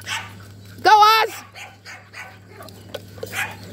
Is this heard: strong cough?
no